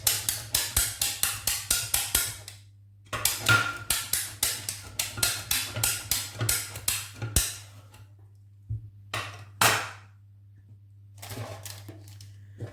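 A knife cuts slices from a parboiled potato in quick bursts of crisp, evenly spaced taps against the board, with pauses between runs, over a steady low background hum.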